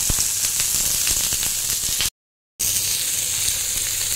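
Beetroot, cauliflower, capsicum and chopped chilli fry in a pan with a steady, close, hissing sizzle that runs throughout, broken by a brief half-second of silence near the middle.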